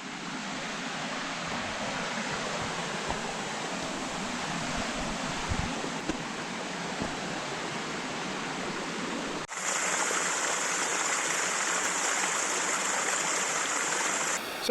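A waterfall at the Eternal Flame in New York roars in a steady, dense rush, with a brief shift partway through as it becomes brighter and closer, and no one talking.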